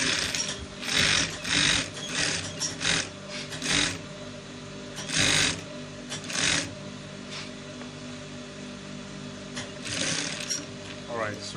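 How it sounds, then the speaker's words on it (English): A sewing machine top-stitches the front pocket of a rope trouser in a series of quick, rattling bursts with short gaps, close-up and fairly quiet, while someone talks between runs. "So you top stitch again, so it will be very tight, so it will not lose quickly."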